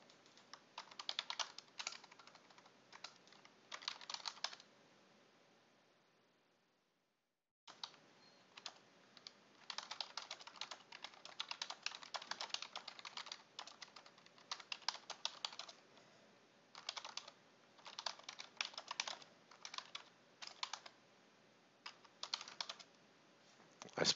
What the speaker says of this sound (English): I'm going to start typing up here.